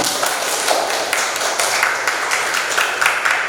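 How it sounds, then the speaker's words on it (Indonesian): A teacher and a classroom of students clap for a fellow student, giving a fairly loud, close stream of overlapping hand claps with brisk, uneven bursts and no talking. "saya tepuk tangan untuk Farid"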